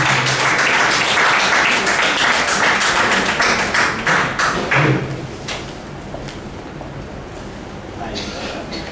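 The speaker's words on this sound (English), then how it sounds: "Let's give a round of applause to everybody." Close, crackling applause from a room at a Rotary Club official visit by the district governor fills the first five seconds. It then thins to scattered taps and quieter noise, with some speech heard.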